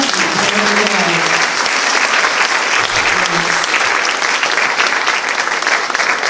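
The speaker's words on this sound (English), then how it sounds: "Please give her a big round of applause." Loud, sustained applause from an audience at a talk about war dogs and their handlers in Sedona, a dense wash of clapping lasting several seconds with some voices mixed in beneath it.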